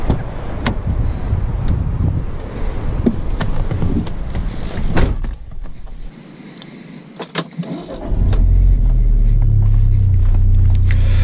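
A stage 2 Golf Mk6 R with an MTM downpipe: rumbling and wind noise, a short quiet spell, then the engine starts and settles into a loud, steady low idle close by.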